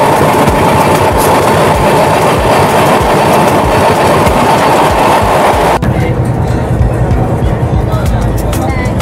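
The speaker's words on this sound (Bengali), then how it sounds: "ট্রেন ফুল স্পিডে আসছিল," A train crossing the Kolaghat bridge over the Rupnarayan river on the Howrah–Puri route, heard as a loud, continuous rumble with steady rail clatter; halfway through the sound shifts abruptly into a duller, closer roar.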